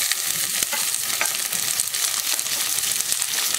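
Okra, shallots and curry leaves sauté in a pan for a Chettinad okra and mochai mandi, a steady dense sizzle with occasional stirring scrapes, close and continuous.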